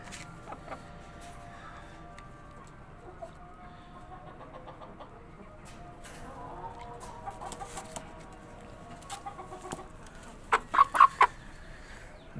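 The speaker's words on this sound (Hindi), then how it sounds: "ये असील मुर्गी है मेरे पास।" An Aseel hen clucks softly and intermittently, close by amid faint background noise, before a burst of louder, rapid clucks near the end.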